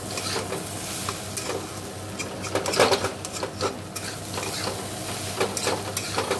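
A spatula stirs spicy semolina (suji), sweetened with a little sugar, in a hot pan, making repeated scraping and light clattering strokes over a low sizzle with no talking.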